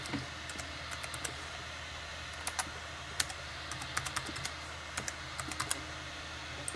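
Keys clatter on a computer keyboard as a password is entered, a quiet, close run of irregular taps in short bursts over a faint steady hum, with no talking.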